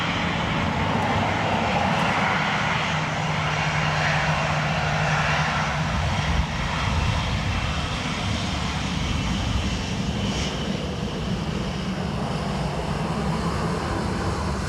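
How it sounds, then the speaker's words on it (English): A Ryanair jet taking off from Dublin Airport on a windy day: a continuous, loud, broad jet engine roar heard from a distance, steady throughout with wind noise and no speech. "This Ryanair off to Gatwick."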